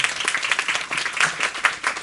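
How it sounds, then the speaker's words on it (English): Audience clapping after a lecture on land restoration, uneven and moderately loud with individual claps standing out in a fluttering rhythm for about two seconds. "So a round of applause for Dr. Abhilash."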